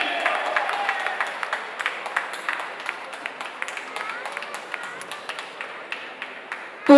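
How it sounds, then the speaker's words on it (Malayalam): An audience at a stage event for the film Thankamani claps to welcome actress Neeta Pillai: scattered, fairly close handclaps over a murmuring, cheering crowd, thinning out toward the end. "നല്ലൊരു കൈയടി."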